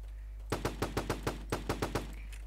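Sharp rapid gunfire from an AK rifle in a Roblox PUBG-mode video game: about a dozen crisp shots in two quick bursts over a low steady hum, with no talking.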